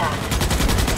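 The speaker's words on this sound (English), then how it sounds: "All right, I'm shooting it." Gunfire in the sci-fi shooter Starship Troopers: Extermination comes as a rapid burst of loud automatic shots, close and continuous for about a second.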